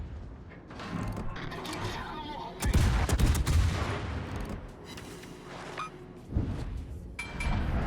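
Cruiser Kushiro guns firing in World of Warships, repeated heavy booms and volleys of gunfire in bursts over a continuous battle rumble, with mechanical clanks between salvos.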